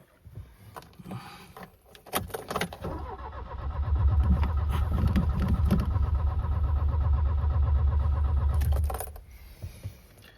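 An old car engine cranks and catches, then settles into a loud, steady idle before it cuts off. Rattles and clicks come before the start.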